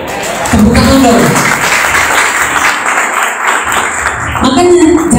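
An indoor audience applauds, a dense wash of clapping that swells and holds for several seconds while a voice talks over it near the start and end.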